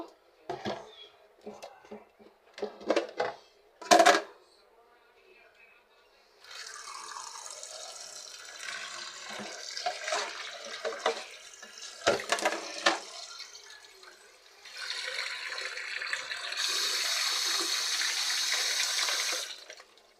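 Tap water runs into a sink to soak fish, with clinks and handling noises first, then a steady rush of running and filling water, fairly close and moderately loud.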